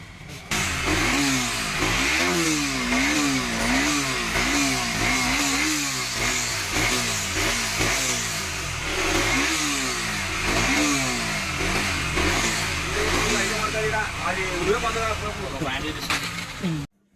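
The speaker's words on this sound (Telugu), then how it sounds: "బైక్ అయితే స్టార్ట్ అయిపోయింది." A KTM Duke BS6 motorcycle with starting trouble from water mixed in its fuel fires up abruptly and keeps running with wavering, pulsing revs, loud and close, with some talk over it before cutting off.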